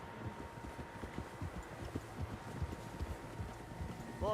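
A horse's hooves clip-clop at a steady walking rhythm in Red Dead Redemption 2, moderately loud and continuous over outdoor ambience, with a brief louder sound at the very end.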